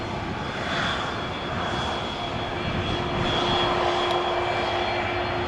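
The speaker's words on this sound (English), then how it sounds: "Here's the Embraer 175." An Embraer 175 jet airliner passes at Amsterdam Schiphol Airport, a steady, broad engine roar holding at moderate distance for several seconds with a faint tonal whine, and no voices.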